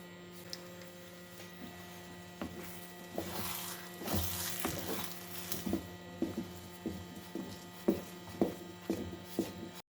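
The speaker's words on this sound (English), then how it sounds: "keep stirring and roasting pudding on high flame until the oil comes to surface" Semolina pudding stirred and roasted in a pan over high flame: repeated soft wet thuds and scrapes from the spoon in an irregular rhythm over a low steady hum, close by, with no talking.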